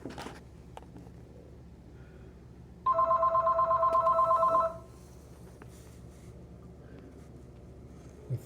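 An indoor telephone gives a single pulsing electronic ring of about two seconds, clear and moderately loud against a quiet room, then stops.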